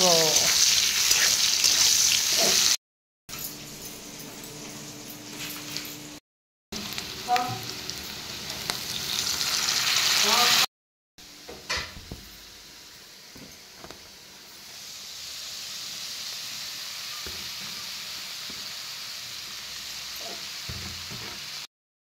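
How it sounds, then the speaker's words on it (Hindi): Kalmi greens frying with onion in a pan give a steady hiss and sizzle in several separate bursts, with occasional stirring clatter and a quieter sizzle toward the end. "पियाज पड़ी कलम शाग भजा हम।"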